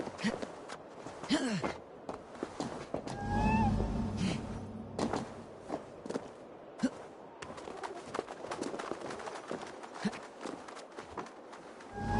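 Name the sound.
cat meowing in a video game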